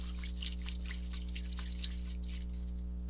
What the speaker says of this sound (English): let's rinse off this brush